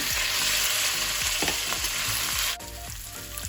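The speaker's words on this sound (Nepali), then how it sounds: "यो घिउमा मैले तामालाई फ्राई गर्छु" Taro frying in hot ghee sizzles loudly and continuously, close up, with light stirring scrapes running through the hiss.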